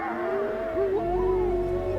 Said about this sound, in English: But their howls betray the small size of the pack.